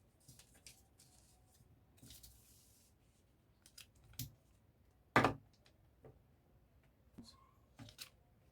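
Scissors cut fabric for a corset in quiet, sparse snips and rustles, with a sharper, louder crunch of cloth near the middle and a few faint snips scattered around it.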